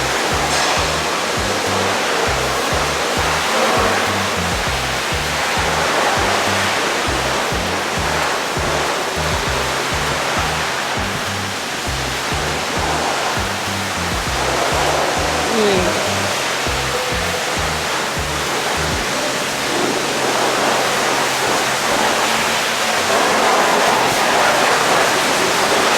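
A truck is sprayed down at a truck wash in Edmonton, Alberta, a loud continuous hissing roar of high-pressure water with a low rhythmic pump or engine pulse underneath, and no talking.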